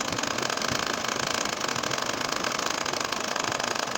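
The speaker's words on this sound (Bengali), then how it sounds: "এখন দেখো এর উপর দিয়ে আমি সেলাই করে যাবো" A sewing machine stitches a nakshi kantha quilt with doubled top thread, running as a fast, even mechanical whir and buzz, close and continuous throughout.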